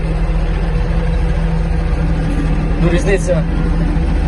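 A Yanmar EG-230 Japanese mini tractor engine runs at a steady idle-like drone throughout, with someone talking over it close by.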